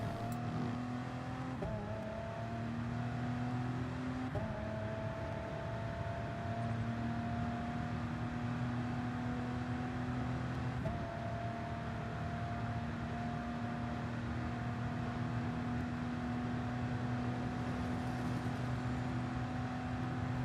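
A race car engine in Gran Turismo Sport at Circuit de la Sarthe accelerating hard out of turns, a steady loud whine climbing through gear changes with brief dips at each shift, continuous and close, with no talking.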